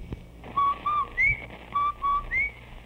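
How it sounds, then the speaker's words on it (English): From a 1945 radio broadcast, the Rinso White whistle sounds twice as a short three-note phrase, clear and fairly close over faint background hiss. "That whistle. That's the Rinso White whistle."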